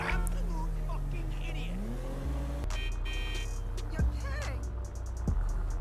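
A car driving in GTA 5, its engine droning and shifting pitch as it speeds along, with scraping and thumping impacts and a steady game soundtrack underneath throughout.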